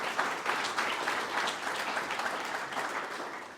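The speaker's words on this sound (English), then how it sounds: "just a big round of applause for Laura and all the team here in the Talbot Hotel" A sports awards night crowd in a hotel function room gives a dense, continuous round of applause, steady and fairly near throughout.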